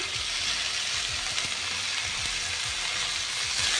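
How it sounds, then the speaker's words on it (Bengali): Radish and potato pieces fry in a pan, with a dense, continuous sizzle close up and scraping stirs of a spatula repeating at an uneven rhythm throughout. "মুলোটা আর আলুগুলো দিয়ে দেবো দিয়ে একটুখানি নাড়াচাড়া করে ভেজে নেব"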